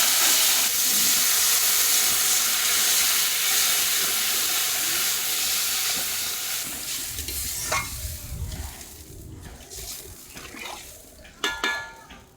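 Water poured into hot oil and spices in a pan, a loud broad sizzle that fades into bubbling and stirring, with a few sharp utensil clanks near the end.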